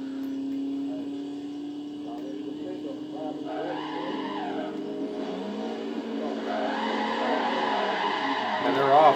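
A race car launching off the line and losing traction, engine revving with rising pitch sweeps and tire skidding under a sustained, loud roar that swells again toward the end.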